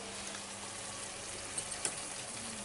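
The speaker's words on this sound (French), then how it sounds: "nous allons prendre les 12 centilitres de bière que nous allons arroser" Beer splashed into a hot pan of chicken for a Maroilles chicken dish, giving a steady close sizzle with a few brief sharp crackles and spits.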